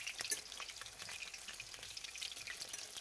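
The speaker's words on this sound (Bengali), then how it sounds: "ওটাকে ভালো করে উল্টে পাল্টে লাল লাল করে ভাজতে হবে" Pieces of taro (shola kochu) fry in a pan while a spatula turns them, giving a faint, steady sizzle with light crackling pops throughout.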